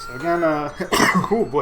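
One sharp sneeze bursts out partway through, close and loud, between bits of casual talk from a commentator.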